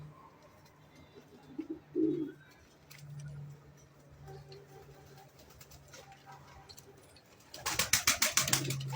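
A big-sized pair of archangel pigeons, male and female with red eyes, coo softly near the start, with low murmuring and a steady hum behind, then brief fluttering clatter near the end.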